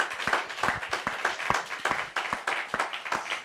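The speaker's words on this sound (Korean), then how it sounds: "우리 박수로 하나님께 영광 올리겠습니다" A church congregation at a revival meeting claps together in a steady, moderately paced rhythm. The clapping is fairly soft and even, with no talk over it.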